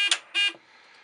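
An SWR alarm on a homebrew ham radio transceiver with its PA disabled gives two short, loud electronic beeps in quick succession, followed by a faint background hiss.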